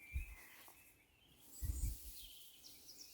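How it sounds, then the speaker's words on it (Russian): Birdsong in a quiet spring natural setting, faint and distant chirps and calls scattered over a soft background, with no traffic noise. "Только птицы."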